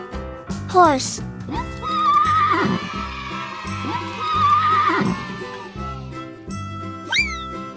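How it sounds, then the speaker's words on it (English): A horse neighs with a loud, wavering whinny near the start, then children's farm music carries on with rhythmic backing and a brief high squeal near the end. "Horse."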